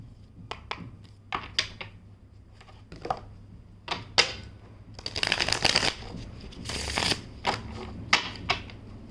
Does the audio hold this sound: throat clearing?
no